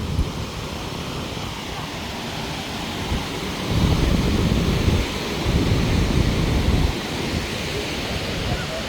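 Sea waves at Patong beach wash in with a steady broadband rush, swelling louder for a few seconds midway, mixed with wind buffeting the microphone.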